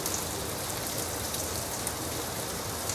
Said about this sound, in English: the sound of rain has been heard and named in countless ways